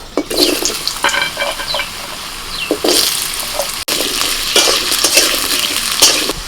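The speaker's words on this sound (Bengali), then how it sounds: "তেল গরম হয়ে গেছে এবার দিয়ে দিচ্ছি আলু" Potatoes frying in hot mustard oil in a kadai, a steady loud sizzle broken by repeated scraping stirs of a spatula and a few clinks, with no one speaking.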